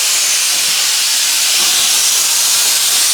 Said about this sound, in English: wipe your steam arm, get all the milk off and purge